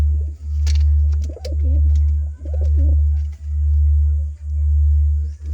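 Pigeons coo softly in a close, repeated rhythm of throaty calls, set against a loud, pulsing low hum that swells and fades about once per second.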